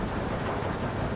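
SG-42 machine gun fire in Steel Division 2, a dense continuous rattle of rapid bursts blending into a steady wash of battlefield noise, no voices.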